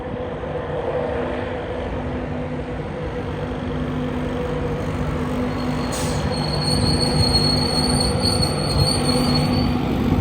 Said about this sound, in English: This is why I come here, is for these 91s.